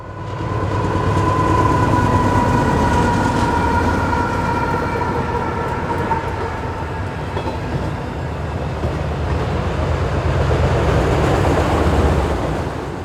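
GE Dash 9-40C freight locomotives roll past with a steady loud rumble, wheel and rail clatter and a sustained horn tone, one continuous close pass.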